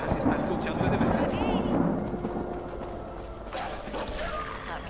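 Modded thunderstorm in the game Skyrim: a heavy rolling rumble of thunder with hissing rain, loud at first and easing into a steady downpour, with a voice speaking briefly over it.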